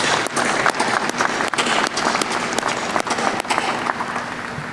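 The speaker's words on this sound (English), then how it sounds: "please give them a round of applause for all they've done to support you" Graduates at a university winter commencement give a loud, sustained round of applause for their families, dense clapping with sharp individual claps standing out throughout.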